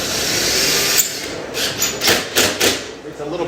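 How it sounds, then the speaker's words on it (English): Screws driven through metal drywall corner bead into a stud during a drywall hole repair: a few short bursts of a power driver whirring and grinding, close and fairly loud, with scraping in between. "these are actually going to get driven right through the metal of the corner bead into the stud behind it"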